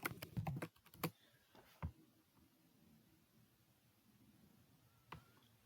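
Quiet clicks of typing on a computer keyboard, with a quick flurry of keystrokes at the start, a few isolated taps afterward and one last tap near the end, all close and faint, with no talking.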